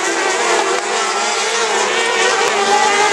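Racing karts on a tight, technical kart track during qualifying heats in Naizin, a continuous loud engine drone with shifting pitch as karts pass nearby.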